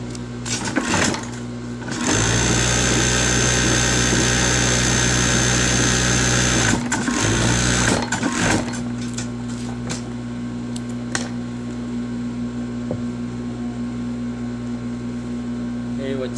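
A sewing machine runs in a loud steady whir for several seconds after some brief start-stop bursts, then quiets to a lower hum with occasional clicks.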